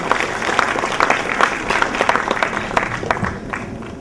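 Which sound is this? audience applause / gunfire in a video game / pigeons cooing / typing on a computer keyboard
audience applause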